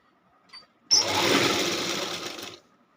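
Sewing machine stitching a layered quilt made from saris: a single steady whirring run of about a second and a half, close and fairly quiet, after a soft click.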